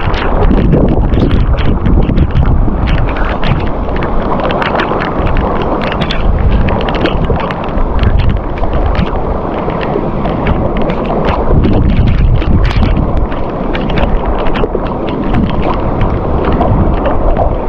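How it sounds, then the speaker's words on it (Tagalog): Strong wind on a Philippine shore while fishing buffets the microphone in continuous loud roaring gusts, with rumbling low-end noise and no speech. "Lakas ng hangin."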